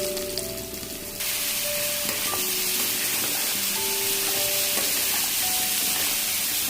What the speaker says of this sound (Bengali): শসাগুলো খুব ভালোভাবে তেলের মধ্যে লবণ হলুদের সাথে মিক্স করে নেব